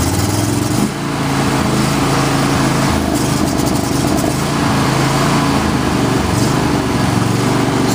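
The engine of a John Deere LA120 lawn tractor runs loud and close, a steady buzzing drone with a slight dip in the first second and no talk over it.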